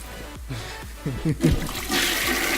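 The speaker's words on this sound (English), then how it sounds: "Oh, the toilet one. the toilet flush." A toilet flush sound effect plays on a live stream, a rushing, swirling gush of water that builds and then holds steady with a hissing wash.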